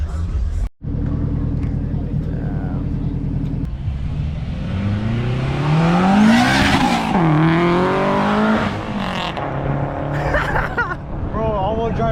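An all-wheel drive car revs hard and accelerates at a car meet, its engine rising and falling in pitch with tire noise, loud and close, while people talk and shout over it.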